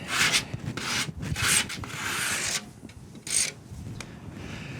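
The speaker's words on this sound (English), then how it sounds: "Then you might want to have a little tool like this. It'll clean up those burrs along the edges." Small hand deburring tool scraping along the cut edges of drywall, a run of dry rubbing strokes in short bursts with brief pauses, close and fairly quiet, no talking.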